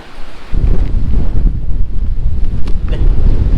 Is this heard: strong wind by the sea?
yes